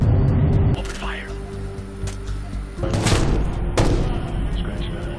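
Gunfire in the video game Ghost Recon: Future Soldier, with sharp bursts of shots over a steady low mechanical rumble, loud and close, and a heavy blast near the end of the stretch.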